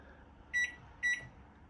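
A microwave oven gives two short electronic beeps in quick succession, clear and close against a quiet hum.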